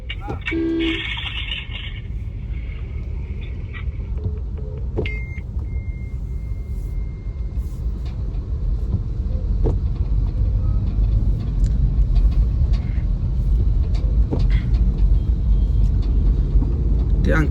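A vehicle crawling along a rain-soaked road, with a low rumbling engine and wet road noise that grows a little louder partway through, a couple of horn toots and people talking over it.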